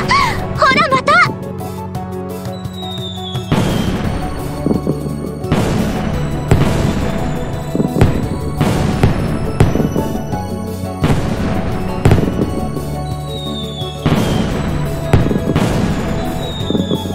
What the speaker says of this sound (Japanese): 花火！